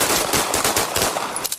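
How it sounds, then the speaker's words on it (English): Rapid burst of gunfire from police officers at a bodycam scene, loud and close, several shots fired in quick succession with no talking. "Within 16 seconds of officers arriving on scene, Perez is shot 9 times"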